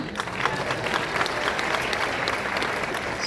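An audience at an award ceremony bursts into loud, sustained applause, dense overlapping claps filling the hall evenly from start to finish.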